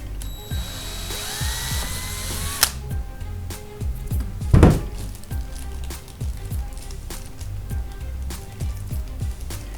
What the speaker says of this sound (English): This drill bit's small enough that it's undersized, so as it's threading in, it's actually creating threads into the plastic